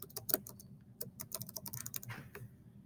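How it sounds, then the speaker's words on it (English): Typing a name on a computer keyboard, a quick irregular run of light close key clicks with short pauses between bursts, quiet and with no talk. "I'm going to type in my name."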